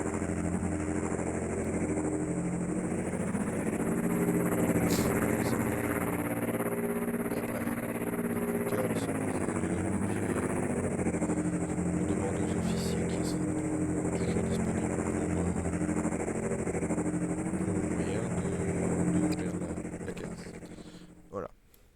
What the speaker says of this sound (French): on n'a plus qu'à se mettre dans la canonnière et